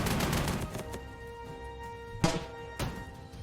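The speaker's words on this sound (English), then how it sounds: "Bombing the artillery, I'm actually okay with that." Bombing run on an artillery unit in the World War II strategy game Panzer Corps 2, with a sustained rumbling barrage followed by two sharp, louder explosive impacts near the end.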